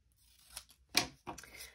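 Scissors snip through a small paper tag for scrapbooking, giving three quiet, crisp cuts spaced across less than two seconds.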